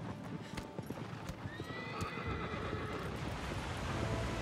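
Hooves clip-clop in a quick galloping rhythm from a horse in Shadow of the Colossus, with repeated neighs and whinnies rising over the hoofbeats, fairly faint overall.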